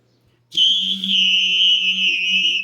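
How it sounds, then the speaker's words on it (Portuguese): A loud, shrill whistle bursts in abruptly after a moment of near silence and holds as one steady, piercing tone to the end, with no voices. "O demônio do apito. Cara. O apito do capeta."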